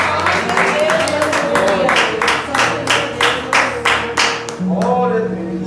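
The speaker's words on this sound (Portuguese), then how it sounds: "Irmãos, aplauda Jesus." A church congregation claps together in a steady, rhythmic beat of many hands. The clapping is loud and close, slows toward the end, and a preacher's voice speaks over it.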